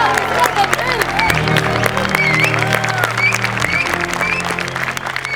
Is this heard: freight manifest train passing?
no